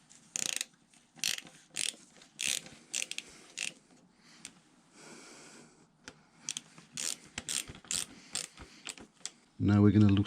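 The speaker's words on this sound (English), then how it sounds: "using a 5mm Allen key, we're going to loosen off the brake pad pins or retaining pins" A 5mm Allen key works loose the brake pad retaining pins on a Triumph Speed Triple 1050 rear brake, heard as a close series of ratcheting clicks and scrapes in uneven bursts, ending in a louder low thump.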